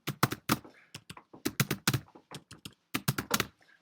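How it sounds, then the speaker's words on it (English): Someone types a post on a computer keyboard with uneven bursts of sharp, close key clicks and short pauses between them. No one talks. "you type your post in here"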